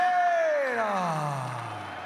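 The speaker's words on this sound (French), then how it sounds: "on entend quelques huées" A crowd at the Ablaikhan Khussainov versus Oscar Mejia boxing match lets out a brief falling boo, a single sustained downward moan that fades over about two seconds.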